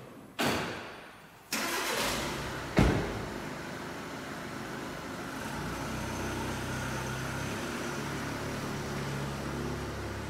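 An Audi A3 1.6 TDI diesel cranks briefly and fires, catching with a sharp burst of revs before settling into a steady, even idle close by, with no voices.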